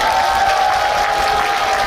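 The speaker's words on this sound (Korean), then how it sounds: "우리 네 군수님 그리고 사무처장님 큰 박수 한번 부탁드리겠습니다" Audience applause for county officials at an outdoor trot concert in Hamyang, a dense steady wash of clapping from a large crowd, loud and unbroken, with a sustained tone ringing over it.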